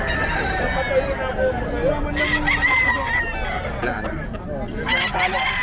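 A fighting rooster crows loudly at the Bocaue pet market in the Philippines, amid clucking fowl, crowd babble and nearby voices talking.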